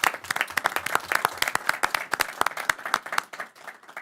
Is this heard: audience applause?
yes